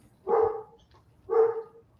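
A dog barks twice, two distinct mid-pitched woofs about a second apart, fairly close and clear against a quiet background.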